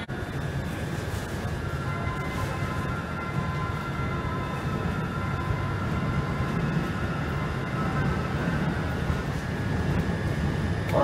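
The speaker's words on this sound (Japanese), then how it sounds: "まもなく1番線から回送電車が動き出します" An out-of-service train pulls away from platform 1 at Shinjuku Station, giving a steady low rumble of rolling stock with faint tonal hums, heard close and continuous, with no talking.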